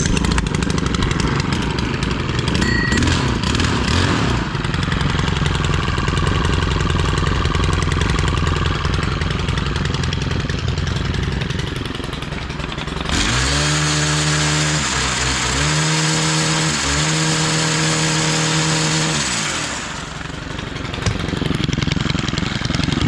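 A STIHL FC111 straight shaft edger runs loudly and steadily in cold outdoor air. The engine drone shifts midway and settles into a rougher, pulsing idle with slight revving changes.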